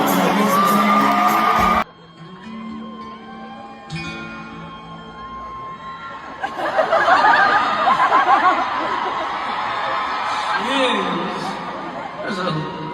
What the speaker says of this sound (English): Someone just screamed the longest I've ever.